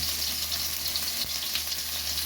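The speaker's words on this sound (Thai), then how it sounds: "ลงพริกแกงก่อนนะครับ ผัดพริกก่อน" Chili curry paste for a spicy stir-fried beef dish frying in a pan, a continuous close sizzle with faint stirring and scraping throughout.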